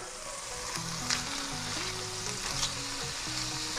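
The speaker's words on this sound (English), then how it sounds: "give this about two minutes on either side and then we're gonna finish it off in the oven" Grouper fillets frying in a hot pan, a steady broadband sizzle running the full length at moderate level, with a couple of brief louder crackles and a faint tonal hum of music underneath.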